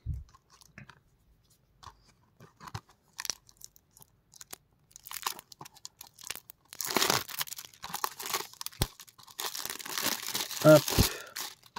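Plastic packaging crinkles as a 4K Blu-ray steelbook case is unwrapped and opened. The crinkling starts sparse and quiet, then grows into dense, louder rustling and crackling in the second half, with a voice faintly present.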